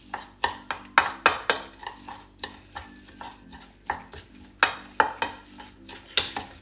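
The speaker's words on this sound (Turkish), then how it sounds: "Tekrar karıştırmaya devam ediyoruz." Spoon scraping and clinking rhythmically around a bowl while stirring teratür meze mixture with lemon juice, repeated close-up knocks in an even beat, no talk.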